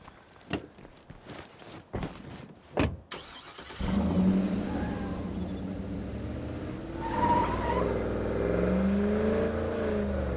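A car in the State of Decay 2 video game: a few sharp thuds and clicks come first, then an engine rises and drives on steadily, fairly loud, with the pitch shifting, and no voices.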